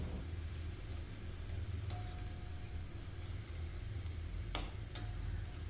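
Boiled potatoes frying in hot oil in a wok, giving a steady soft sizzle throughout with a couple of faint clicks, fairly quiet and without talk.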